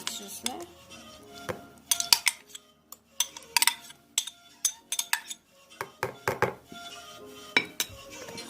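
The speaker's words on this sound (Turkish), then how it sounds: "Bunları da iyice çırpalım." A whisk clinks repeatedly against a bowl while it beats orange cake batter with yogurt, giving an irregular run of close, bright taps and scrapes.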